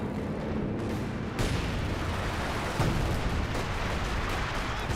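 A P-47 aircraft strike in Company of Heroes 2 lands as dense, continuous battle noise of booming impacts and gunfire, loud throughout, with sharper blasts near 1.4 and 2.8 seconds.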